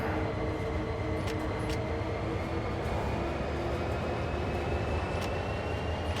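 Steady train running in a Dovetail train simulator video game, a continuous low rumble and rolling drone with faint high tonal whines, loud and unbroken throughout, no talk.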